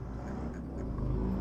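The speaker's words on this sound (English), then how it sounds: "Oh, pardon the traffic noise." Low, steady traffic rumble in the background, a constant distant drone of passing vehicles with no voices, heard during a Legends of Runeterra game session.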